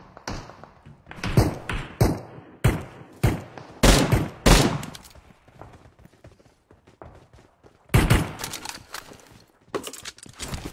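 Gunfire in a shooter video game: sharp bursts of shots and thumping impacts in uneven clusters, loud and close, with quieter gaps between volleys and a final flurry of rapid fire.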